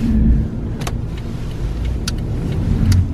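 A car interior fills with a steady low engine rumble and road hum as the vehicle moves off, with a few brief light clicks and rattles on top.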